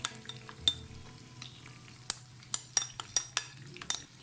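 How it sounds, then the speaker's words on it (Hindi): Marinated masala goes into a pan of chicken for an Afghani chicken karahi, with a string of sharp spoon-and-metal clinks and light scraping against the pan, close and quiet with no talking. "अब जो हमारे पास मैरिनेटेड मसाला था वो मैं इसके ऊपर ऐड कर दूँगी।"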